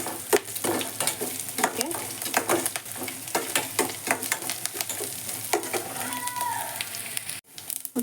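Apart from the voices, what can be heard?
frying chopped ginger in a pan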